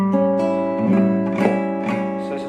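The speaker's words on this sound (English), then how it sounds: "So it sounds something like this when you strum the chord." A guitar strums a diminished chord that rings and sustains, with several lighter restrikes and pick attacks through the ringing.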